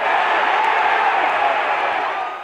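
A stadium crowd roars on game day at an NFL matchup between the Buccaneers and Eagles. The cheering is a loud, continuous wall of massed voices that stays steady and then eases slightly at the end.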